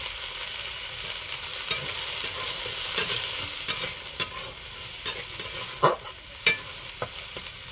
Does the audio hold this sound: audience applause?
no